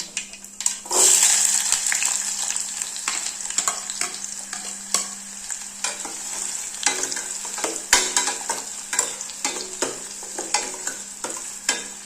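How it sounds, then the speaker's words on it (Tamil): Fifteen small shallots, a green chili and two garlic cloves sizzle in hot oil in a pan, with a loud sputter as they go in, then a steady fry broken by sharp stirring clicks. "சேர்த்துட்டு வெங்காயம் நல்லா பிங்க் கலரில் வர வரைக்கும் வதக்கி விட்டுக்கலாம்."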